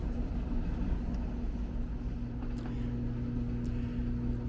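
A newly installed clothes dryer runs with a steady, low rumbling hum and faint tumbling, constant and moderately loud throughout with no talking.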